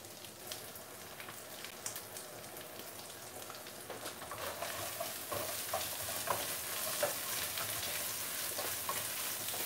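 Garlic frying in a pan gives a steady, dense sizzle with stirring scrapes and crackles, building slightly louder toward the end, with no voices.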